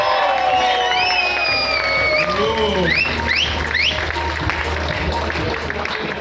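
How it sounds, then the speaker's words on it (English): Loud crowd reaction at a Prife product launch in a room, cheering with rising whoops and whistled shouts over a dense wash of clapping and noise. "Give a big round of applause."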